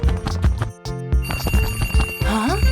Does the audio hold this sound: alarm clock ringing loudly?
yes